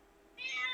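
One short, high meow from a nearby cat rises out of a quiet indoor background and holds briefly to the end.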